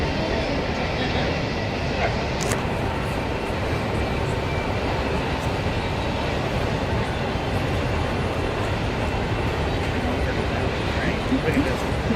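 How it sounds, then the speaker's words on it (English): A train passes outdoors near a graduation ceremony, a steady broadband rumble and rush holding at constant level for the whole stretch, with faint voices mixed in. "We'll just wait till the train goes by."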